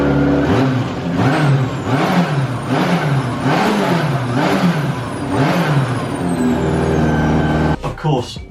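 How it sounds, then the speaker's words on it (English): Colin McRae's works Subaru Impreza WRC (P8) runs on a straight-pipe exhaust, its loud, lumpy idle pulsing in steady rhythmic surges close to the microphone before a brief clattering break at the end. "with a work Subaru with a straight pipe, it's peaking massively, even on idle"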